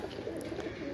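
Pigeon coos from a Golden Teddy border-marked high-flyer pigeon kept in Andheri West, soft low repeated cooing steady throughout at close range, with no talking.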